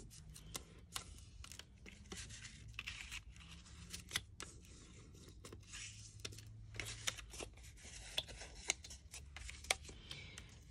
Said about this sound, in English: So I'm just going to score these quickly and fold them.